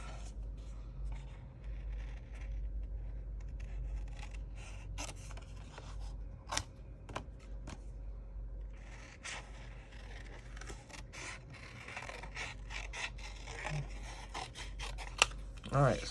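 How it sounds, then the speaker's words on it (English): Paper snips cutting through a stamped paper sheet, a series of sharp, close snipping clicks spread irregularly across a quiet room with a faint low hum beneath. "let me grab my paper snips, and we are gonna separate"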